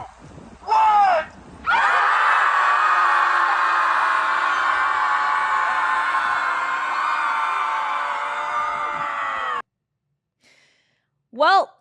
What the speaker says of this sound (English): Watch this. Final scream.